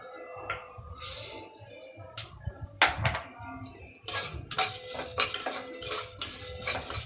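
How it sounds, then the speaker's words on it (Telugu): Moong dal tipped into a metal pan and stirred with a metal spoon while cooking millet pongal, giving scattered clinks and scraping rattles that grow louder and busier toward the end. "ఇప్పుడు పెసరపప్పు యాడ్ చేసుకుందామండి."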